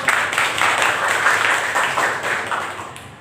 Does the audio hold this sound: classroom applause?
yes